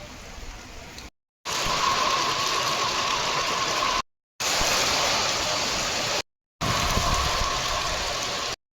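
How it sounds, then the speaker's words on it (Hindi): Heavy rain pours in a dense, loud hiss, heard from under a shed, broken by a few abrupt gaps of silence; no one speaks. "जब से बारिश बहुत तेज़ हो गई है, हम शेड के नीचे खड़े हैं"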